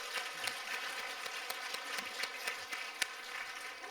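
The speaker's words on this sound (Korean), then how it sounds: "우리 다시 한번 격려의 박수 하겠습니다" Church congregation at a Sunday morning service applauding a soloist in encouragement, steady crowd clapping at moderate distance with faint voices underneath.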